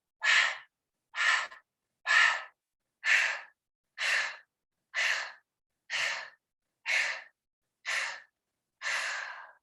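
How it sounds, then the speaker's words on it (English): Ten evenly spaced, forceful breaths of fire from yoga breathing, done alongside leg lifts, come close and clear in a steady rhythm, each a short sharp rush of air separated by silence. "we're just going to do a little breath of fire with 10 leg lifts"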